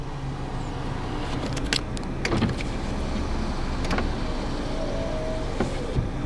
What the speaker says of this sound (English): Down here are your window controls, your rear window lock, and all four windows